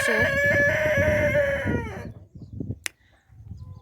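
Free-range chickens cluck while a rooster crows loudly for about two seconds, followed by softer scattered clucks nearby.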